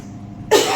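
A woman with sinus congestion gives a single harsh, close cough that bursts out of quiet room tone near the end.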